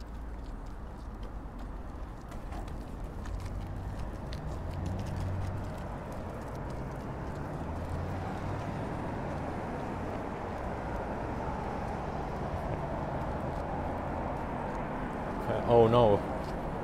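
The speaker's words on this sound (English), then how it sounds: "This is one of the main streets that bring cars and trucks to city center, and there is quite a lot of traffic" Heavy traffic on a main city street in Kallio, Helsinki, cars and trucks passing in a steady, continuous roar with low rumbling swells, a brief closer burst near the end.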